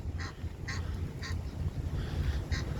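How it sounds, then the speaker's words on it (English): Geese on a pebbly Thames beach at the Isle of Dogs, honking in several short, evenly spaced calls a little way off over steady outdoor rumble and wind. "there's these geese down there making a right old racket"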